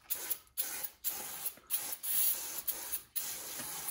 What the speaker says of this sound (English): I can see this nice thing about brake cleaner is it has a little bit of pressure behind it.